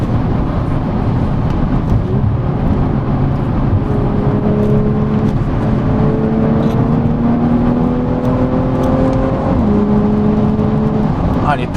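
An Audi RS5 accelerates hard, its engine note climbing through the gears in long rising sweeps with a brief drop at a shift. The sound is loud and continuous from inside the cabin, with some speech faintly underneath.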